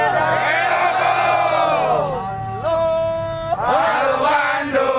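A large crowd of labor protesters at a rally shouts a long, drawn-out unified cry, loud and sustained, then breaks into a second swelling roar of voices.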